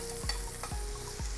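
Morels are tossed in butter in a pan, giving three quick sweeping scrape-and-toss strokes over a soft, constant sizzle, heard close with no voices.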